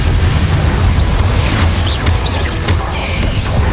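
Confringo blasting spells burst in Hogwarts Legacy combat, a loud, continuous rumbling roar of explosions with a heavy low-frequency body and several brief sharp crackling hits scattered throughout.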